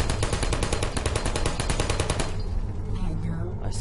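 Rapid automatic turret gunfire from the video game Portal rattles in a loud, continuous burst for about two seconds, then stops, leaving a low game hum.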